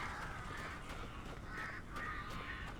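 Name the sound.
crows cawing in the video game Alan Wake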